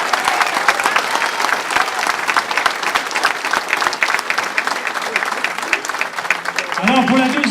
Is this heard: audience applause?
yes